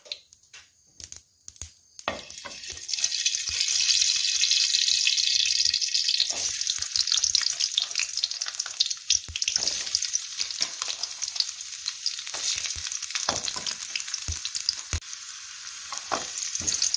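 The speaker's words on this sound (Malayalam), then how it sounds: "വെളുത്തുള്ളി ഇഞ്ചി മൂപ്പിച്ച് നമ്മൾ മീൻകറിക്കകത്ത് ഇടാൻ വേണ്ടി അതിന് വേണ്ടിയിട്ട് എണ്ണയ്ക്കകത്ത് ഇത് മൂപ്പിക്കുകയാണ്." Garlic and ginger fry in hot oil in a pan for a traditional Kerala fish curry, a loud, steady sizzle that starts after a few soft clatters and continues with crackles and pops.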